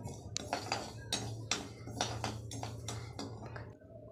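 Pearl millet roasts in a pan for a Tamil herbal mix flour, giving scattered dry clinks and scraping stirs against the metal over a steady low hum, close and moderately loud.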